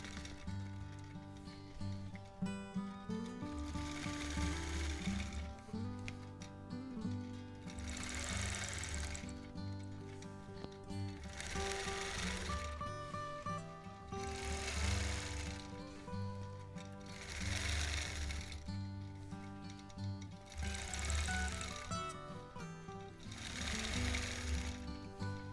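A sewing machine runs steadily while quilting along previously stitched lines on a Double Wedding Ring topper, its fast rhythmic needle chatter swelling in repeated bursts over soft background music.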